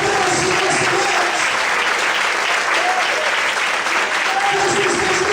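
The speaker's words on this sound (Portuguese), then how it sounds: "Vamos poder aplaudir e exaltar o Senhor nesse lugar." Sustained applause from a church congregation, many hands clapping in a steady dense roar with shouted voices rising over it at moments.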